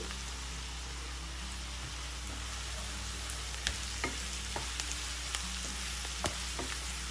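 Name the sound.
sliced onions and curry leaves frying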